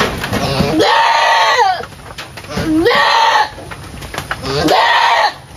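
An Anglo Nubian goat cries out after an antibiotic injection, giving three loud, drawn-out bleating screams spaced a second or so apart, close to the recorder.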